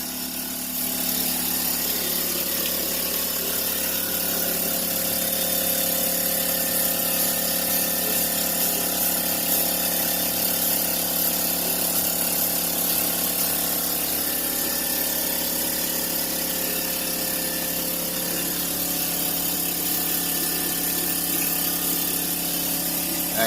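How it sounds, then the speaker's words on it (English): An air compressor runs steadily in a garage during work on a red 1983 Oldsmobile Cutlass Supreme, a continuous loud mechanical drone with a faint whine that holds for the whole stretch, with no talking. "The air compressor loud."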